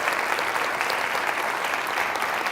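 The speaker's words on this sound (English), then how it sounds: "So let's give them another round of applause" Applause from a conference audience at a philanthropy panel event, a dense, even wash of clapping that holds steady throughout at moderate volume, with no speech over it.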